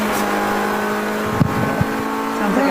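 A race car engine drones at an endurance race at VIR, a steady mid-pitched tone with a brief rev change near the middle, heard at moderate distance under broadband track noise.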